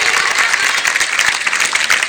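A crowd at a hostel function applauds to welcome guests onto the stage, a dense, even wash of clapping from many hands that holds steady without pause for about two seconds, with no speech.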